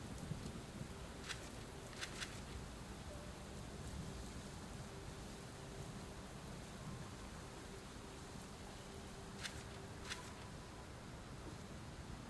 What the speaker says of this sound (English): The rains return.